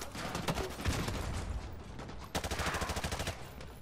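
Rapid bursts of automatic gunfire from the Call of Duty: Modern Warfare 2 Campaign Remastered game, loud and close, with a sustained rattling volley in the second half over a dense battle background.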